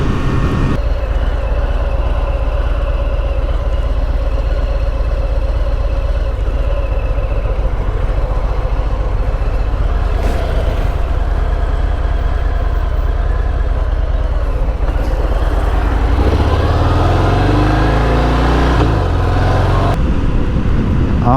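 A Harley-Davidson Fat Bob motorcycle engine running at low revs, a steady close rumble throughout, with a deeper surge of throttle toward the end.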